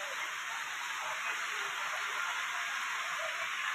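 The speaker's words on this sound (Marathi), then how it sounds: "खूप जास्त पाऊस आलाय" Heavy rain hisses outside, heard from under a shed roof as a steady, even wash of noise with a faint hum, no voices.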